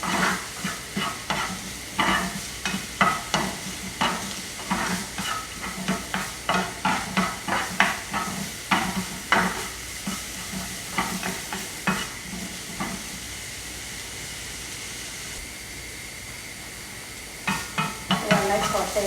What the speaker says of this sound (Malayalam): നന്നായിട്ട് സോട്ട് ചെയ്തെടുക്കാം